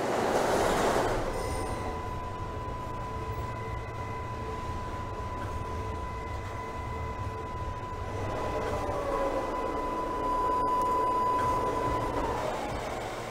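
Simulated Queensbound J local subway train from Trainz Simulator 2012, a steady rumbling run with a sustained tonal whine, swelling louder near the start and again toward the end, with no voices.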